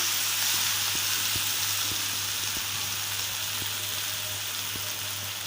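Soaked poha for kanda poha hits a hot pan and sizzles, a steady loud hiss with a few faint clicks, no talk.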